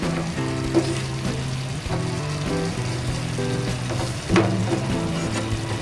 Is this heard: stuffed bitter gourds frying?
yes